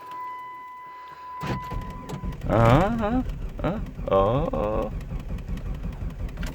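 A car engine cranks and tries to catch during a jump-start, a rough, uneven churning that starts after a brief steady tone and runs on under a person's talk.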